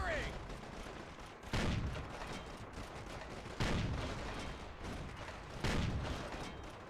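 Gunfire aimed at tanks in a video game, with heavy shots booming at regular intervals of about two seconds over a continuous noisy battle background.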